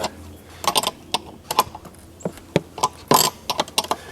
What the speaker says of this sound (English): Then it's just a matter of putting the bolt through and tightening it up.